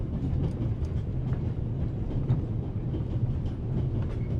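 A train rolls along the rails with a continuous low rumble and faint rhythmic clatter, steady and fairly loud, with no speech.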